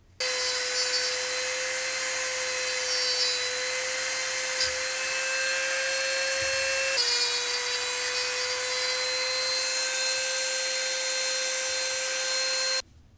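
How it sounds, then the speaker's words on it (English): An abrasive cutting disc grinds through the steel of a broken Moki lock pick with a loud, continuous high whine, steady throughout apart from a brief dip midway, then stops abruptly. "I'm using an abrasive cutting disc, and that does leave a rough edge"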